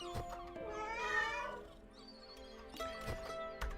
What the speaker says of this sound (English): so we got our cat here